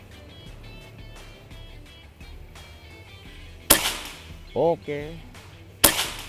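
An Amor Fati PCP air rifle fires at targets on an outdoor range during a 50-metre shooting challenge: two loud, sharp cracks a couple of seconds apart, with a man's short spoken word between them over faint background noise.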